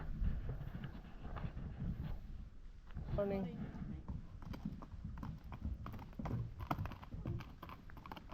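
Horse hooves clip-clop on a road in New Zealand as a horse-drawn cart passes, a brief run of regular hoofbeats at moderate distance under ongoing conversation.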